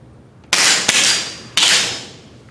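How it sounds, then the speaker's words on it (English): Rifle shots ring out at an outdoor shooting range, two loud, sharp cracks about a second apart with a fainter report between them, each followed by a trailing echo. "Put the weapon on fire. Squeeze the trigger one time, gentlemen."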